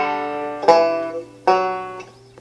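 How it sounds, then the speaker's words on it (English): Banjo plays a short Scruggs-style kickoff: two bright plucked attacks with ringing, decaying notes over about two seconds, close and clear, with a softer final pluck. "So for review, here's kickoff number 1."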